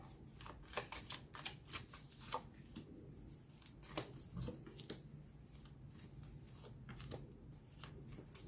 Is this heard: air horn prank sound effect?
no